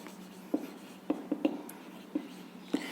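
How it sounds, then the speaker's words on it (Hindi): Writing on a board during a maths lesson makes short, scratchy strokes, about six separate taps spaced irregularly over a few seconds against a quiet room. "तो सबसे पहले लिखते हैं क्लॉकवाइज के लिए"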